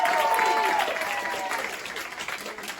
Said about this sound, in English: Please a round of applause for them one more time.